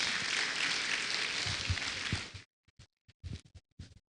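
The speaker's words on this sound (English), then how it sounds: "Another round of applause." Audience members at a university public lecture applaud, a dense crowd clapping that swells and holds for a couple of seconds, then breaks off abruptly into a few scattered, isolated claps.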